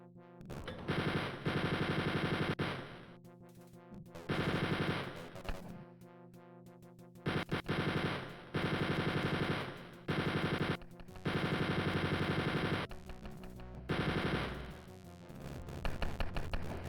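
Enemy gunfire in the video game Wolfenstein 3D: Spear of Destiny: loud bursts of rapid automatic shots lasting one to two seconds each, separated by short gaps and repeating through the stretch, with no voices.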